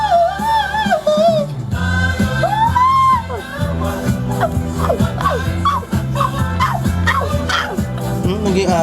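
A person imitates a dog with yips and barking sounds during a TikTok live stream, over loud music with a steady beat and excited voices, the barks rising above the mix in short bursts.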